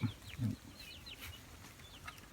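Soft clucking from chickens in a rice-field farmyard, a few short calls near the start, with faint chirps and farm ambience continuing quietly.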